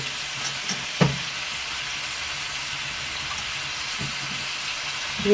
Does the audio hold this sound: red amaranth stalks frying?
yes